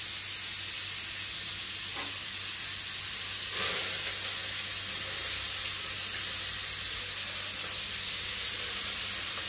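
Chopped onion goes into a generous amount of hot oil for pav bhaji, giving a steady, loud sizzling hiss that holds throughout with a few faint clinks.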